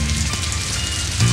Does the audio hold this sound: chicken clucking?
no